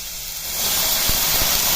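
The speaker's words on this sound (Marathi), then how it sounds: "आता या स्टेजला आपण एक पाणी घालून घेणार आहोत" Sudden loud hiss and steamy sizzle as water hits a hot pan of fenugreek leaves, rising quickly and staying strong, with a few light knocks underneath.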